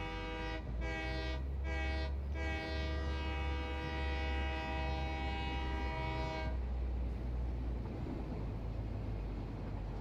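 A train in a Satisfactory-style factory game runs along with a sustained, tonal horn-like drone, broken by a few brief dips, then shifts to a steady mechanical rumble; no one speaks.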